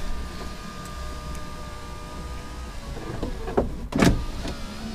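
An electric window motor on a car door runs with a steady whine, then strains and reverses near the end, ending with a couple of sharp clunks close by.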